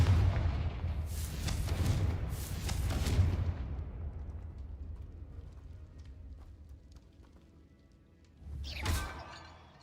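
The Confringo fire spell in Hogwarts Legacy blasting with booming, crackling bursts early on, a rumbling tail that slowly fades, then another sharp burst near the end.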